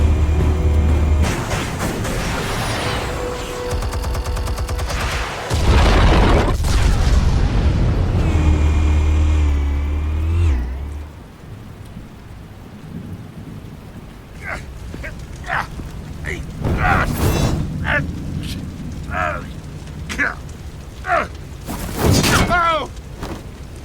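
Explosives go off in the Batman Telltale game, with heavy booming blasts and a rumbling roar in the first half, then quieter scattered crashes, clatter and a few voice-like sounds as the noise settles.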